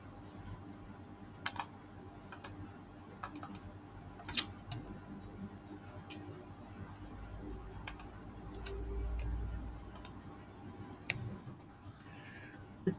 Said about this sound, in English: So I will type the word correct.